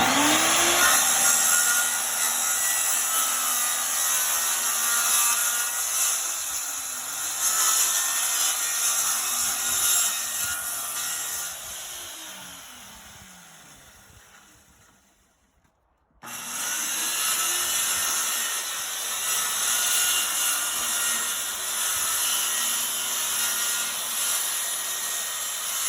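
A power saw with a carbide Diablo blade makes cuts while a Decked truck-bed drawer system is modified. A loud, steady whine runs on, fades to a brief stop, then starts again at full strength.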